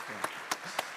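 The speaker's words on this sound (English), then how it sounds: "Ladies and gentlemen, big round of applause." A few sparse, separate hand claps from the audience at a tech conference main stage, three sharp claps spaced evenly and sounding fairly faint and distant.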